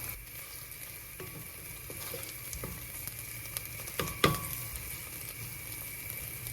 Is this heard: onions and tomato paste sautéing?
yes